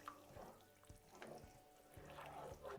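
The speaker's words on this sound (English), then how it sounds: "And another 100 ml of water goes in." About 100 ml of water poured into a pan of fenugreek, frozen pea and paneer curry, a faint, quiet splash and trickle with soft clinks, heard alone.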